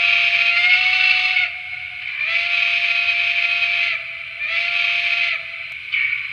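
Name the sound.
model steam locomotive whistle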